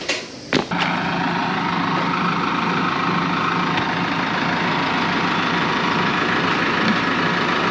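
A RoGator sprayer's engine idles steadily and close by, a continuous loud rumble with a brief knock near the start, no voices over it.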